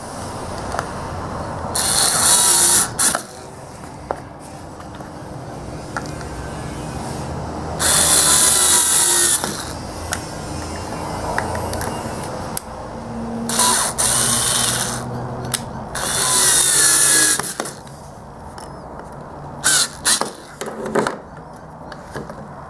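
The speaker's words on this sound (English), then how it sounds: "We'll use these top inner screws to attach the faceplate." A power drill drives No. 8 half-inch screws into the faceplate of an Irwin wood bench vise in several short, loud whirring bursts, with ratcheting clicks and quieter handling noise in the gaps.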